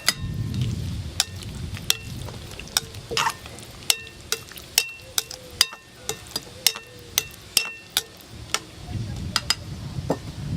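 A spoon stirs pasta sauce with fresh basil leaves and fried eggplant in a pan, producing a steady series of crisp clinks and scrapes over a soft low sizzle.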